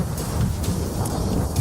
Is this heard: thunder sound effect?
yes